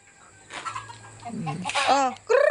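Farm chickens give short clucks and rising squawks near the end of a brief, fairly loud passage, with a voice briefly mixed in.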